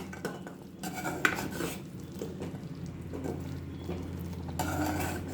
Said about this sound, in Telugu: ఇప్పుడు ఈ గట్టా కూడా వేసేస్తున్నాను అందులో. ఒకసారి మిక్స్ చేసుకుందాం.